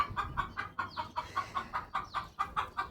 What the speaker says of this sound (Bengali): এই যে এটা হচ্ছে মুরগির ঘর। আর এই যে দেখেন কত মুরগি